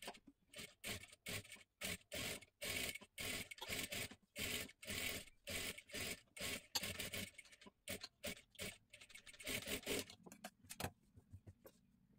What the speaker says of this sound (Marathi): आता इथे गळ्याला एकदम कडेकडेला आपल्याला शिलाई मारून घ्यायची आहे पूर्ण गळ्याला